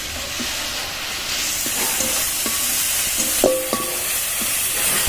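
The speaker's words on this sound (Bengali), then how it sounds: "সব তুলে এবার ভালো করে ভেজে নেব মশলাটা" Spice paste fries in a pan alongside steamed taro leaves and shrimp, a dense close sizzle under repeated scraping and tapping of a stirring utensil, with a few clanks against the pan.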